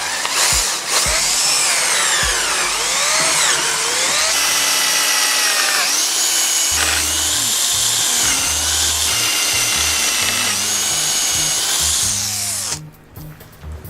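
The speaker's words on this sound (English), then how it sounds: "and let's drill." A power drill grinds steadily into oiled metal while making a friction folder knife, its whine rising and falling with load for over ten seconds before cutting off abruptly.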